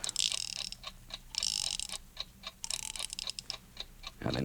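A wound-up alarm clock ticks in a quick, steady rhythm, close and fairly quiet, the bright ticks pulsing in bursts with no voices over them.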